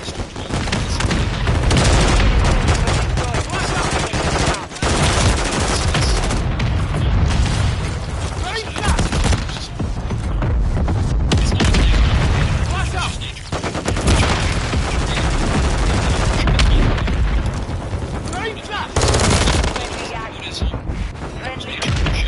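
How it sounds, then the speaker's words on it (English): Mortar strikes land in Call of Duty Modern Warfare 3, with loud booming explosions and sustained rapid gunfire filling the scene, while game voice announcements sound over the battle noise. "Friendly mortar strike on the way."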